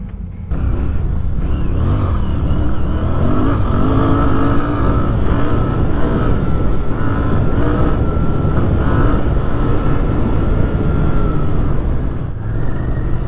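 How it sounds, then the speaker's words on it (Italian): A Royal Enfield Bear 650 scrambler motorcycle engine runs loud and close, revving smoothly with rising and falling pitch over a steady roar. "il motore è bello fluido qua"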